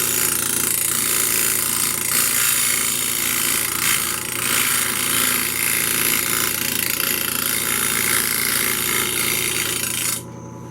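A woodturning tool ground on a bench grinder gives a steady, loud, high grinding hiss with a constant motor hum beneath. It runs without a break for about ten seconds, then cuts off abruptly near the end.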